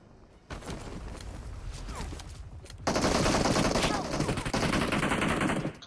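Gunfire in the video game Ocean Odyssey: rapid automatic rifle bursts rattling close by, turning louder and more continuous partway through and running nearly unbroken to the end.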